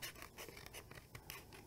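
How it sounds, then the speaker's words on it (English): Cricut scissors snipping around the outline of a vinyl monogram design for a water bottle craft, giving soft close scratchy cuts in an irregular rhythm, faint and alone. "I'm going to use our Cricut scissors"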